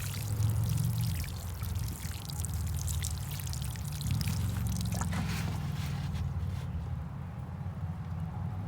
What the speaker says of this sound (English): So now we're just gonna water it.